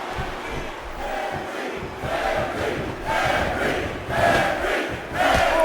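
A large wrestling arena crowd cheers for Mark Henry, a roaring wash of voices that swells in waves with rising shouts, loud and continuous throughout.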